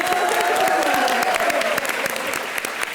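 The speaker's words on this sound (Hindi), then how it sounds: "सोफिया के लिए जोरदार तालियां" A television comedy show's studio audience gives loud, dense applause to welcome a guest, the clapping steady and crowded with a faint voice or tone beneath it early on.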